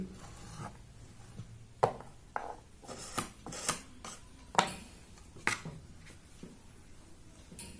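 One side is cut off a clay sculpture slab during a school sculpture activity. Quiet, close chopping and scraping strokes sound at irregular intervals, some sharper than others, with no talking.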